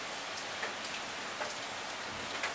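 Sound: rain from Typhoon Hagibis in Japan

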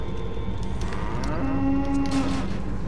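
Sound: cow mooing in the video game Goat Simulator

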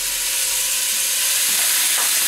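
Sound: beef pieces browning in a frying pan

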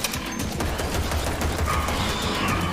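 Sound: gun firing in Project Warlock II video game

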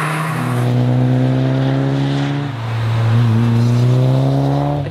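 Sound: Toyota GT4 rally car driving

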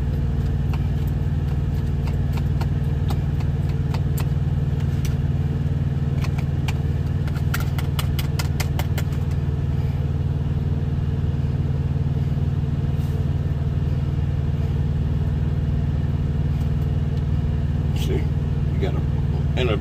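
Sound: truck engine running while powering cooking

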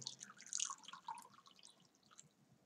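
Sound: water dripping beside a lit candle

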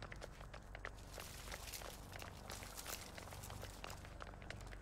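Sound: footsteps in the video game The Texas Chain Saw Massacre

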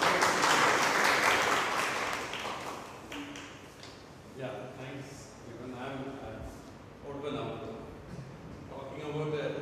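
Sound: audience applause for a speaker at a lecture

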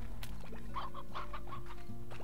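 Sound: chicken clucking in the video game Slime Rancher

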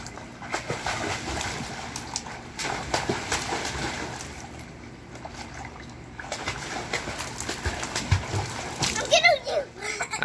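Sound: splashing water in a swimming pool

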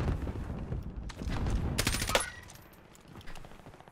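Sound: gunfire nearby in the video game Warzone

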